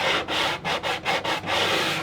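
80-grit sandpaper wrapped around a square-edged block of old MDF rubbing along a routed wood edge, in about six brisk back-and-forth rasping strokes with short gaps between them, close and loud.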